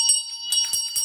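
Small bells ring bright and close in a church worship setting, struck in a quick rhythm of three jingling strokes over a sustained metallic shimmer.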